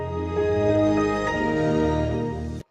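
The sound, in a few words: Windows XP startup sound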